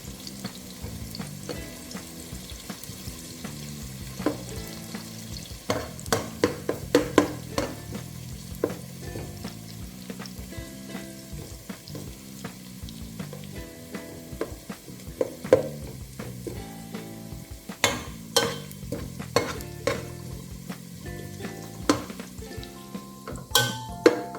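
Ghee sizzles steadily as onions fry in a pan, with scattered clinks and scrapes of a utensil stirring against the pot.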